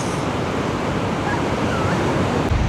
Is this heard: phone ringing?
no